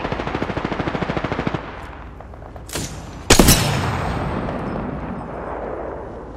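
Automatic gunfire in the battle royale game Apex Legends, a rapid burst of close shots for about a second and a half, then a sharp blast followed by a fading rumbling tail.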